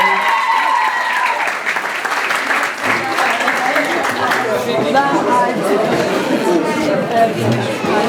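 Audience applause fills a hall at a folk dance ensemble's awards ceremony for the best dancers, a sustained, loud clapping with crowd chatter mixed in, continuing for around eight seconds.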